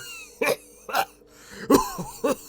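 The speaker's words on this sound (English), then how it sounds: "struggled to fight back against the coughing fit that had enveloped him" Four harsh, close coughs come in quick succession, a short, loud coughing fit.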